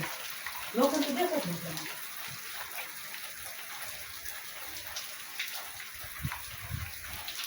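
Steady rain patters and hisses on surfaces in a hilly forest area during ironwork, with a brief voice-like burst near the start and occasional heavier drips.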